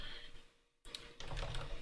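Close, quiet typing on a computer keyboard during live coding, a run of rapid key clicks that stops briefly for under half a second and then resumes with a burst of taps, with no voices.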